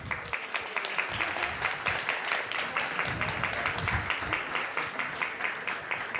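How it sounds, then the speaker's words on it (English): Devotees at a Krishna gathering clap steadily throughout, the applause sounding full and fairly close, with a slightly rhythmic pulse to the claps. "We can give a round of applause for each level."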